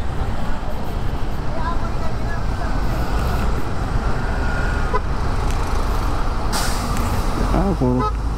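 Heavy trucks rumble past on a busy highway, a continuous close roar of engines and tires with a brief hiss near the end, while a voice talks intermittently over the traffic.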